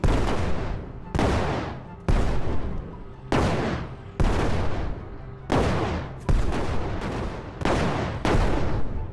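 Heavy cannon shots boom one after another in LEGO Brick Rigs, about a dozen loud blasts at uneven intervals, each trailing off in a rumbling decay.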